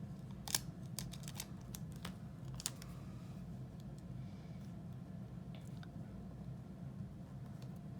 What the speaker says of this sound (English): we're just gonna cut it right down the middle